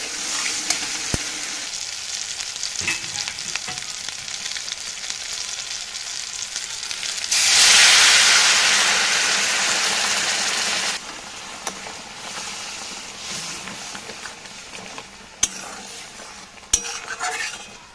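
Cooked-down masala sizzling in oil in a pan as a little water is poured in, a loud hissing surge in the middle before settling back to steady frying with utensil stirring and occasional clicks, no talk.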